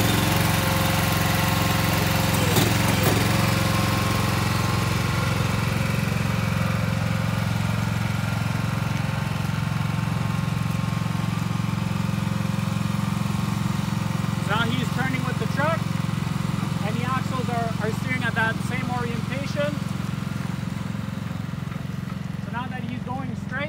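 A truck-towed blade trailer unit's engine starts and settles into a steady, loud low idle that continues throughout, with a person talking over it partway through.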